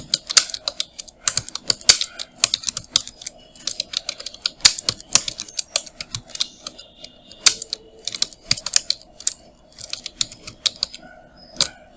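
Rapid typing on a computer keyboard, a close, crisp stream of irregular key clicks with occasional heavier strikes, steady throughout and without speech.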